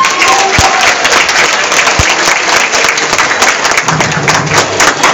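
Festival opening audience in Liești, Galați, applauding steadily, a dense, loud wash of clapping from a large crowd that continues throughout with no letup.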